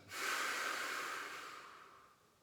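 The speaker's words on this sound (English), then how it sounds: "Pushing the air out." A person exhales forcefully during a morning breathing exercise, pushing air out in one long, close, breathy rush that starts strong and slowly fades over about two seconds.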